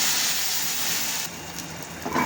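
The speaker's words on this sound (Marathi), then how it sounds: "मिक्सरचं जार उसळून ना पाणी टाकून द्यायचं" Water from a rinsed mixer jar poured into a hot pan of soaked dal and vegetable, giving a steady steamy hiss and sizzle that eases off partway through.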